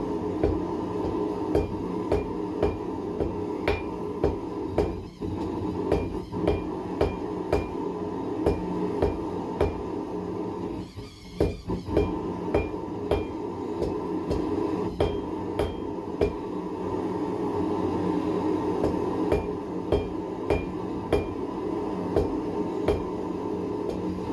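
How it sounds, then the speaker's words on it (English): Hammer blows taper hot steel at a forge, sharp metallic strikes landing in a steady, fairly quick rhythm with a brief pause midway, close and clear, with no voices. "Tapering blows are kind of hard to get the hang of because you're having to come in and hit at an angle"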